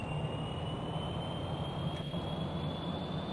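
Jet plane taking off at max power in Kerbal Space Program, a steady loud roar with a rising high whine that keeps going.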